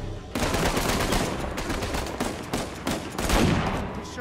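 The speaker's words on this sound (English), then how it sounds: "the shotgun in this game is like a two-shot kill kind of weapon" Shotgun fire in the Uncharted 4 video game comes as loud, dense bursts of blasts and impacts in rapid succession, with sharp repeated cracks over a busy combat din.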